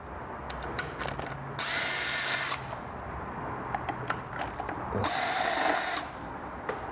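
A ratchet with an 8 mm socket works screws loose on a Vespa GTS HPE scooter, giving two spells of steady buzzing spin about a second long, with faint scattered clicks and taps between them, close but fairly quiet.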